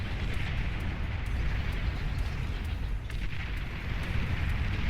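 Bombers strike a base in the strategy game Beyond All Reason, producing a dense, continuous rumble of overlapping explosions and booms that stays loud throughout, with no talking.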